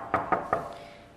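Three sharp knocks on a door in quick succession, evenly spaced and fairly close, followed by quiet room tone in a children's Cinderella play.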